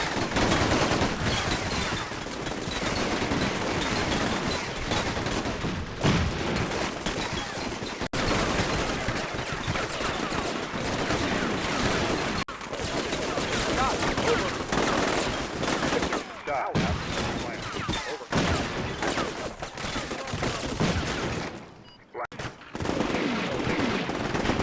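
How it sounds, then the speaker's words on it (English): A fierce firefight in the video game Combat Mission Shock Force 2 rages in an urban street battle, with dense, continuous rifle and machine-gun fire crackling loud and unbroken, broken only by a brief lull near the end. "The Syrians are set up both on the upper and lower floors of a row of buildings across the street from the mosque, and a fierce firefight quickly begins"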